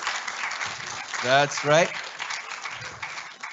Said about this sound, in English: if you could encourage them with some applause, maybe some shouts, some woohoos